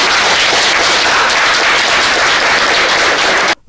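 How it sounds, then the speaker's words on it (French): Sustained applause from an assembled audience, steady and dense throughout, ending abruptly near the end. "Voilà, acclamez quand même."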